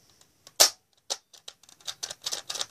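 A spring-powered Spectre toy blaster snaps off one sharp, close shot, followed by a run of lighter plastic clicks and rattles as the mechanism is handled.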